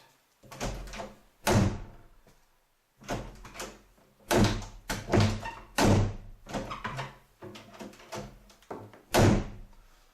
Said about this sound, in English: we can now close this door